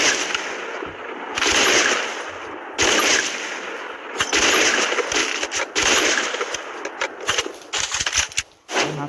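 Sniper rifle gunfire in the Free Fire mobile shooting game, loud repeated bursts of shots with brief gaps, dense and harsh throughout.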